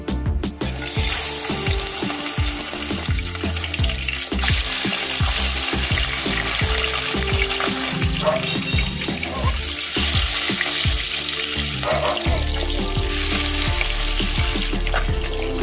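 Pieces of katla fish sizzle loudly in hot mustard oil in a wok, a steady dense crackle running throughout with intermittent sharper pops and spatters, close and with no voices.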